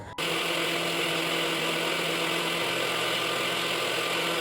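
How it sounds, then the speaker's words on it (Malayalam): Mixer grinder grinding ragi for batter, starting abruptly and running as a loud, steady motor whir with a constant grinding roar throughout. "ഞാനിപ്പോൾ മിക്സിയിലാണ് അരയ്ക്കുന്നത്."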